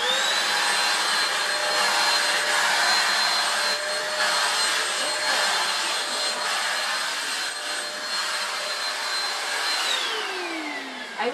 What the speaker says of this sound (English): it's like the vacuum cleaner. It's the pet one, so it definitely does the job